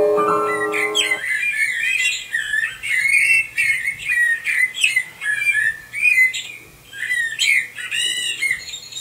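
A real blackbird sings alone, close and clear: a run of fluting, warbling whistled phrases with brief pauses between them, after a short opening burst of a different tone.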